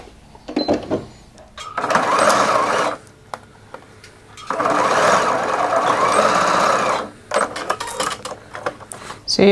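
A sewing machine stitching pleats of harem pants runs in two sustained whirring bursts of rapid needle chatter, close and fairly loud, separated and followed by lighter clicks and fabric handling.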